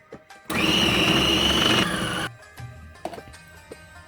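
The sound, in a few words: blender blending minced meat with coriander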